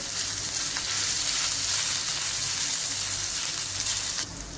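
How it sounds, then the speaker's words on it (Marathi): Cumin, ajwain and ginger-garlic paste fry in hot oil over a low gas flame, giving a steady, close sizzle that holds for several seconds before easing slightly near the end. "आपलं तेल तापलेलं आहे, त्यामध्ये आपण टाकणार आहे जिरं, ओवा, आलं आणि लसणाची पेस्ट."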